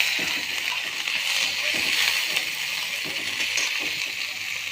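A continuous bright hiss of chopped onion hitting hot oil with dried chillies and cumin, steady and fairly loud throughout, with faint clinks underneath.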